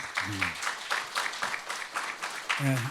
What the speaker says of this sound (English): Let us give a big applause to Eliot KANG